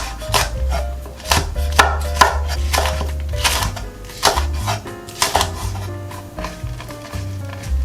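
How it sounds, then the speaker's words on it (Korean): A knife chops red chili peppers diagonally on a cutting board, rapidly and steadily, the close, sharp thuds coming in quick bursts. "홍고추도 어슷하게 잘라줍니다."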